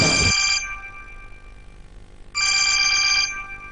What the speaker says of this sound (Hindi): ओ, किसका फोन है?